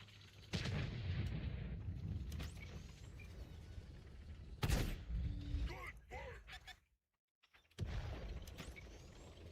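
Tank cannon fire in World of Tanks on console, with a few heavy booming shots and a sharp blast midway among rumbling engine and battle noise, briefly cutting to near-silence, with someone talking over it.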